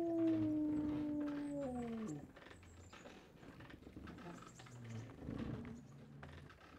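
A dog howls in the medieval role-playing game Kingdom Come: Deliverance. The long, loud howl falls in pitch over about two seconds. Quieter ambient sounds and soft muffled noises follow, with no speech.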